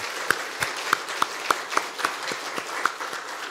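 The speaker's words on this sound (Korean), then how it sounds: "우리 부활의 주님께 한 번 더 영광의 박수 올려드리겠습니다." Scattered hand claps from a church congregation at a Sunday worship service, a dozen or so sharp separate claps spread across a few seconds rather than a full ovation, set against a faint room hum.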